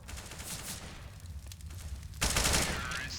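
Gunfire in a Counter-Strike match on the Cobblestone map, with rapid bursts of shots layered over game ambience and a sudden louder flurry near the end.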